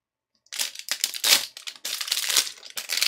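Plastic packaging of a Redgrass Games Everlasting wet palette being opened, with close crinkling and crushing bursts of stiff plastic in uneven handfuls, loud and alone without talk.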